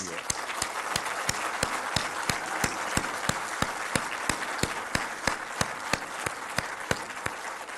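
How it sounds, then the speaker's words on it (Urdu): A large crowd at a formal ceremony addressed by Pakistan's prime minister gives loud, sustained applause, with sharp claps standing out in a steady rhythm throughout. "زوردار تالی لگائیں ان کے لیے."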